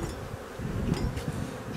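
Honeybees hum as a steady buzzing swarm at an open hive while frames are being removed during a spring inspection, close and continuous with small bumps and knocks from handling.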